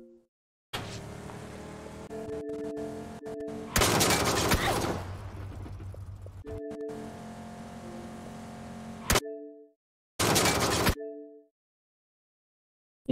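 Gunfire in the battle-royale video game PUBG, sustained loud bursts of automatic fire broken by sudden cutoffs and brief silent gaps, with game engine noise droning beneath.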